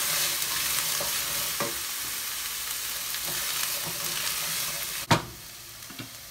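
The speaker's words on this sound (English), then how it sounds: "Now that the onions are golden brown, I'll add the chickpeas." Chickpeas being stirred into golden-brown fried onions in a pan for chickpea sambusak filling, a steady sizzle with scraping stir strokes and one sharp clatter near the end.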